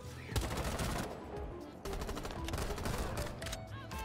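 Rapid bursts of automatic gunfire from the tactical shooter game Rainbow Six ring out loud and sharp, several volleys in quick succession with short pauses between them.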